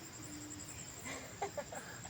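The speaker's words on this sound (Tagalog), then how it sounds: "itong mga manok natin yan" A few short chicken clucks and murmurs close by at night around a house, over a steady background hum, with no talking.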